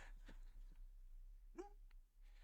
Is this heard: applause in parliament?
no